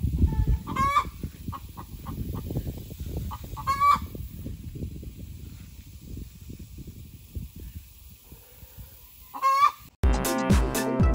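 Hens cluck and call in a rising egg song, several bursts of squawking calls repeated over a steady background of softer clucking and rustling, fairly close, ending in a sharp change of sound.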